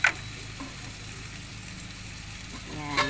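Water poured into a hot pan while cooking a Filipino merienda sizzles and hisses steadily, faint and continuous, with brief clinks at the start and end.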